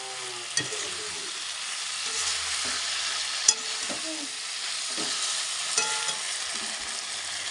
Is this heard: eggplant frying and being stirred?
yes